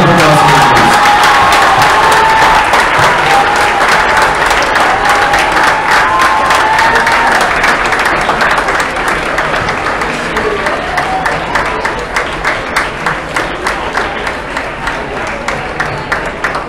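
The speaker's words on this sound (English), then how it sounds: "A big round of applause, please." A crowd applauds and cheers at the PWSMUN 2017 Model UN closing ceremony: loud, dense clapping mixed with shouts and whoops, easing into more separate claps toward the end.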